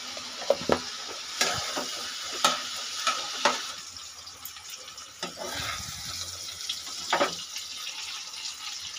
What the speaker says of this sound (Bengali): আমি একটু আলাদা আলাদা করে ভেজে নিচ্ছি